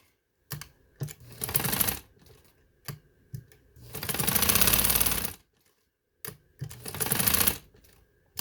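A sewing machine stitches a cutwork design in short rapid bursts, whirring for a second or so at a time with pauses and clicks between, close and without talk.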